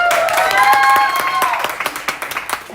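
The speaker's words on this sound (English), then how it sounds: "Let's give them a big round of applause" An audience at an honor society induction ceremony gives a round of applause for newly inducted students, with dense clapping throughout and a few voices calling out over it early on.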